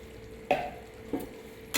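A spoonful of ghee goes into a simmering chhana bora curry, setting off a few brief, close sizzling bursts over a quiet background with no talk.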